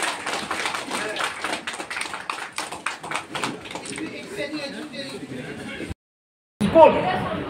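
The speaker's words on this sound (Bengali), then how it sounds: "সকলে জোরে হাততালি দিয়ে তাদেরকে সকলকে" Audience applause for students at a school event, many hands clapping steadily at moderate distance for several seconds, thinning out before a brief cut to silence.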